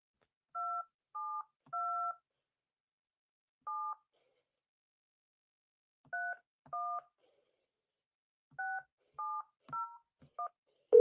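Telephone dialing tones, a sequence of short dual-tone key beeps in irregular clusters with quiet gaps between groups, clear and alone.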